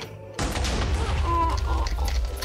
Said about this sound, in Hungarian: Valami robbant, de mindegy.